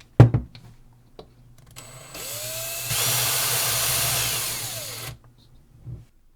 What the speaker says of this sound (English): First, I'll need to drill a hole in the mold.